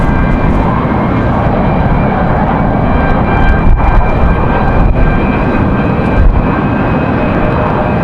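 A Southwest airliner arriving from Chicago lands on runway 23 left at Raleigh-Durham International in strong wind, its engines a loud, steady roar close by, broad and unbroken throughout.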